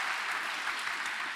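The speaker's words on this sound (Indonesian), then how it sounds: "Tepuk tangan bagi Allah kita." A church congregation claps together in sustained, dense applause that fills the space at an even, steady level throughout.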